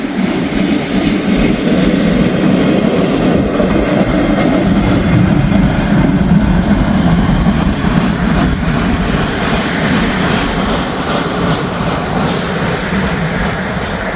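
An intermodal freight train rolling past with an old transfer caboose, a loud continuous rumble and wheel roar held steady throughout, close by with no voices.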